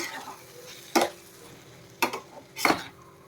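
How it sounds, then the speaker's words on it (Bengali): Potatoes frying in a pan with onions while being stirred, a soft background sizzle broken by three sharp utensil scrapes and clinks against the pan. "এরপর আমি এর মধ্যে দিয়ে দেব আলু ভাজা, মানে আলুগুলো দিয়ে দেবো ভাজার জন্য।"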